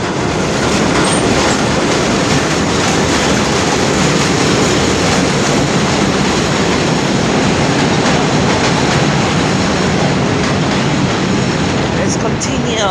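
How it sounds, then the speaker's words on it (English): A work train rolls through a subway station on the D line at 25th Avenue, a loud continuous rumble with clattering wheels and a brief squeal, close by and steady throughout. "Oh, look at this. A work train."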